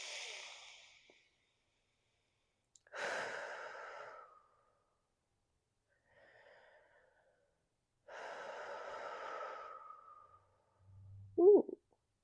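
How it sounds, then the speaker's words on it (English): Slow, audible breaths during a gentle floor yoga stretch, a few long exhales and inhales spaced several seconds apart, close and soft, ending with a brief low vocal sound. "And breathe."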